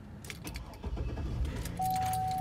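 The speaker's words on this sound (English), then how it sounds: "turn the car over." A 6.0L V8 Cadillac Escalade ESV is started: keys jangle close by, the engine cranks briefly and catches, and a steady idle and a warning chime follow.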